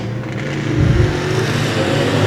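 Race cars roaring down the back straightaway at a speedway, a loud continuous engine drone with rising revs as the pack passes close by.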